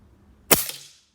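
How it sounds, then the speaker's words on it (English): A single sharp shot from a Leshiy 2 air rifle fitted with a 3D-printed baffle, a crisp close crack with a brief ringing tail, then near silence. "The baffle is really quiet, so much quieter than factory"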